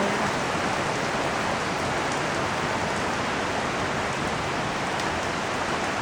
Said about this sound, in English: You know that's a lot of rain all at once.